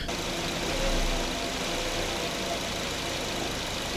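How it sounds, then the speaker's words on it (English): A Suzuki Aerio 2.3L engine idles with a bad motor mount, giving a steady, low, even rumble with a faint rough undertone, heard close and alone without any talk. "This is idle right here. So just a very slight vibration, very slight shake."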